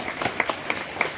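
Brief burst of applause from an audience welcoming guests at a school singing event in Bhanuvalli, Harihar; a short patter of clapping with a few sharper claps standing out, moderately loud.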